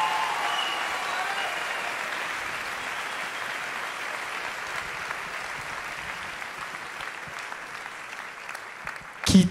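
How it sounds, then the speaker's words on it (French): Sustained applause from a fashion show audience for the design school's creators, a broad steady roar of clapping that fades slowly, ending with a brief louder knock. "applaudir l'ensemble des créateurs,"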